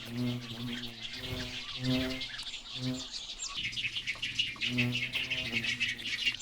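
Birds call at a cormorant and heron nesting colony on an island in Paldang Lake, with repeated harsh, throaty nestling-like cries in short bursts close by and a continuous bed of higher chirps and buzzing behind them.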